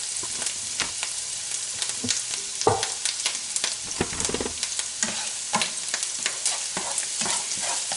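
Garlic and peppers fry in hot oil at medium heat for sauteed kale, a steady sizzle broken by frequent scraping stirs and clacks, close and fairly loud, with no voice.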